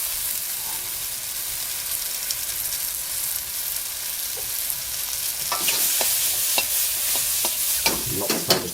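Oyster mushrooms stir-fried in plenty of oil in a wok on a home cooker, a continuous sizzle that turns busier halfway through as repeated tossing adds sharp clatters and scrapes, no voices.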